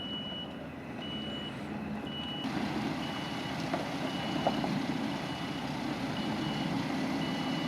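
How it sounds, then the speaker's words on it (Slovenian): A MAN TGS 33.510 truck reverses on a forest road, its backup alarm beeping steadily and evenly over the low hum of the idling diesel engine, heard from close by. "Nato je tovornjak treba zapeljati vzvratno in obrniti."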